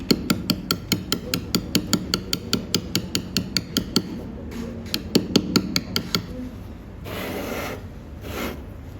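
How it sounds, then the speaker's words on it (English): Steady, rapid mallet strikes on a steel chisel cutting lettering into stone, sharp ringing taps in a fast even rhythm close by, pausing briefly, resuming, then giving way to scraping and brushing. "So you drive your chisel in at the 45-degree angle"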